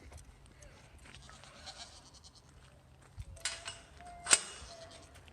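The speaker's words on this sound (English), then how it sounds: "And here we go into the goats." Goats bleat at a zoo enclosure amid faint ambient shuffling and light clicks, with one louder, sharp bleat standing out near the end over low background noise.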